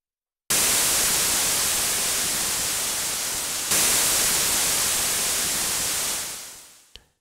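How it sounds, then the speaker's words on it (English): An analog synth noise sample soloed in the Vital synthesizer gives a steady, loud, full-band hiss. It holds for about six seconds, then fades out over a short decay with a small click at the end. "a noise from an analog synth,"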